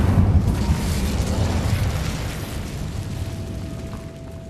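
A fiery spell blast in Hogwarts Legacy: a broad rumbling burst that roars at the start and slowly fades into a low crackling tail with a faint tone.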